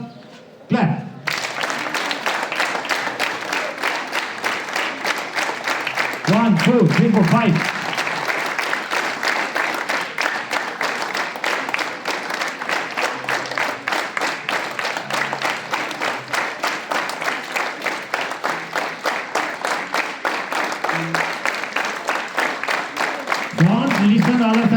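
Schoolchildren at a morning assembly clap together in a steady, rapid rhythm that runs on almost unbroken, while a voice counts aloud near the start and other voices briefly cut in.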